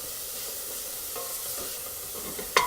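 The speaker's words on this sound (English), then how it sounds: "Give that a nice stir as well." Bolognese sauce is stirred in a pan over a steady soft sizzle, with faint spoon scrapes and a sharp metallic clink near the end.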